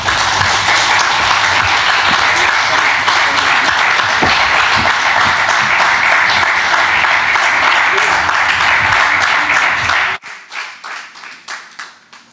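Loud, sustained applause from an audience at a ceremony for a disability charter signing, dense clapping that fills the room for about ten seconds, then thins to a few scattered claps.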